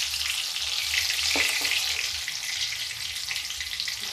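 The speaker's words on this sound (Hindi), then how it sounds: "अब ये देखिए ऐसे मैंने काट लिया, और मेरा तेल गरम है। अब इसी तेल में हम इसको" Sliced eggplant frying in hot oil for a malai masala baingan, a loud, steady, close sizzle that runs unbroken throughout with no talking.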